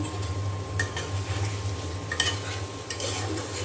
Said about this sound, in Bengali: আলু এই যে কষিয়ে নিচ্ছি মশলার সাথে